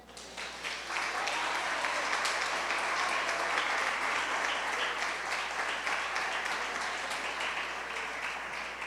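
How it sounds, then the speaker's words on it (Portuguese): Sustained applause from a church congregation during a Portuguese-language sermon on eternal life, honoring Jesus, steady and fairly loud clapping filling the space throughout with no talk over it. "Jesus merece um aplauso."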